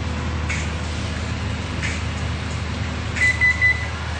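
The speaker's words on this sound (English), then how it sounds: "we heard the rice cooker, it means the rice is done" A kitchen rice cooker signalling that the rice is done gives a short series of clear electronic beeps near the end, faint chirps earlier, all over a steady hum of kitchen background noise.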